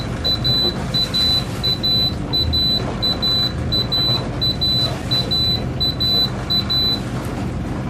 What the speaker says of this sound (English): You release, it will beep, beep, beep, and then it will stop beeping.